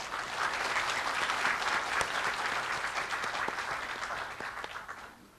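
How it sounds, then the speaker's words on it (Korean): Large audience applause welcoming the university president onto the stage at a cyber university degree-conferment ceremony, a steady dense roar of clapping sustained throughout and tapering off at the end. "문희창 총장님께서 나오실 때 큰 박수로 맞이해 주시길 바랍니다"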